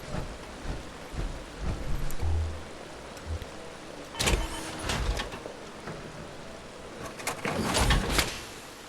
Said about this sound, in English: Storm's coming.